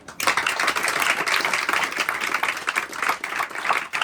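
Theatre audience applause at the Avignon Off festival, many hands clapping in a fast, dense patter that stays loud and steady, with no voices over it.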